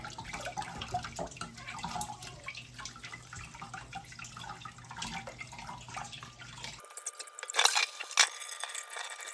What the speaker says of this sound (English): Just run this butter through cold water.